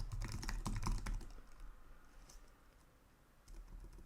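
Computer keyboard being typed on while writing RPGLE code, a close burst of rapid clicking keystrokes at the start, then quieter scattered taps over a faint background hum.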